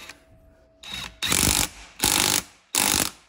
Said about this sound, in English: And then we get our 14 mm socket, like so. Just get that started.